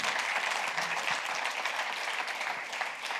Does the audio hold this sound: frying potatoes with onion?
no